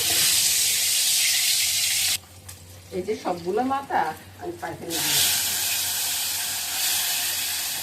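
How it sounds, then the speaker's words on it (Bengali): Fish frying in hot oil, a loud, continuous close sizzle and hiss that drops away for a few seconds while someone speaks, then surges back at full strength. "এবার মাছগুলা ভেজে নিব।"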